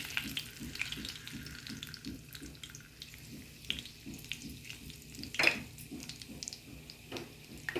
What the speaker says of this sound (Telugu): తాలింపు గింజలు వేస్తున్నాను